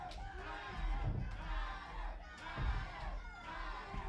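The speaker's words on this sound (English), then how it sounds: "The fans here at the USWO starting to get behind Ryder" Crowd at a USWO professional wrestling show in Nashville cheers and shouts steadily throughout, a dense roar of fans with louder swells and no clear commentary on top.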